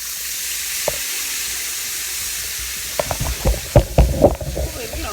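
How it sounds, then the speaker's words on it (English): Shrimp dumped into a hot pan of butter, a steady frying hiss that bursts into louder crackling sizzle and a few clattering knocks from the pan partway through, close up with no talk. "now I'm gonna dump my shrimps in here"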